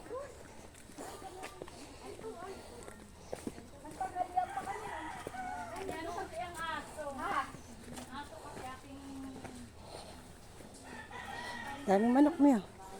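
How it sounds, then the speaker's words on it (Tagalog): Chickens cluck repeatedly while a rooster crows loudly near the end, in the province in Cardona, with people talking and footsteps in the background. "Daming manok mo yun."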